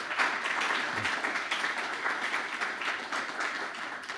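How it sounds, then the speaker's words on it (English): Audience at an industrial hemp research forum applauds group leaders and panelists, a steady, moderately quiet patter of many hands clapping that continues evenly throughout. "let's give a round of applause to our group leaders here and panelists"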